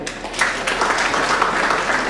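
An audience at a Shiv Sena political rally in Chinchani claps together, a dense, steady burst of applause filling a large space.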